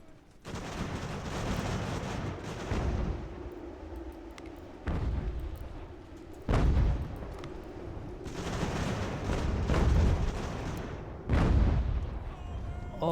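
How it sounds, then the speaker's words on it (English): An artillery gun in the video game Ultimate General: American Revolution booms repeatedly, several heavy blasts spaced a few seconds apart with rolling echoes over continuous battle rumble. "Oh boy, that gun is shooting at us."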